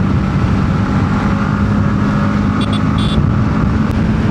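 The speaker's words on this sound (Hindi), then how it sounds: "अब भगाऊंगा भाई अपने बाइक को।" A motorbike accelerates hard along a highway on the way to Raipur, India, its loud, steady engine and wind roar filling the recording with no voices.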